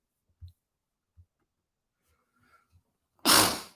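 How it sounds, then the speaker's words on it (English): A single loud sneeze bursts out near the end, close and sudden, after a few faint clicks and small handling noises in an otherwise quiet room. "I got to sneeze."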